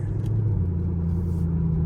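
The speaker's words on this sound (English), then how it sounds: "We got the 2SS Camaro straight pipe." Straight-piped 2017 Chevrolet Camaro SS at night, its engine droning as a steady low rumble heard from inside the car, with the pitch shifting slightly as it pulls.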